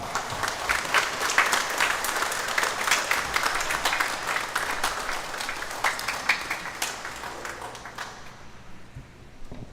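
Church congregation applauding during a priest's ordination ceremony, a sustained roomful of clapping hands that holds steady for several seconds before tapering off near the end.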